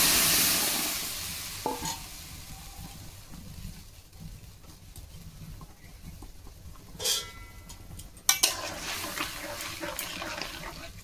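Cumin seeds hitting hot oil in a home kitchen pan, a steady faint sizzle with occasional stirring scrapes and a couple of sharper crackling bursts near the end.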